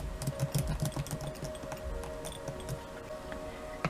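Light, irregular tapping clicks of an icicles-themed typing sound effect, like icicles or keys being struck, with a faint steady hum in the background.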